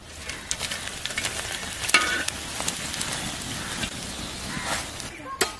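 Dried red chillies frying in hot mustard oil in a village kitchen for a bottle gourd, tomato and pea dish: a continuous close crackling sizzle with sharp pops and occasional stirring scrapes, with faint voices in the background.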